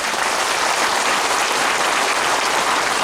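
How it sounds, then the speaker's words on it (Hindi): Thick, continuous applause fills a hospital unit inauguration ceremony, with many hands clapping at once at an even, loud level throughout and no voices above it. "प्लीज इनके लिए बहुत बड़ा ताली दीजिए"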